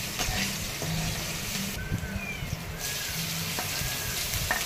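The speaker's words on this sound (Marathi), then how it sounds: "मग ना हिंग टाकून घेते तेलामध्ये" Asafoetida tempering sizzling in hot oil for a Marathi varan, a dense continuous crackling hiss with faint clicks from the pan, close and steady, no talking.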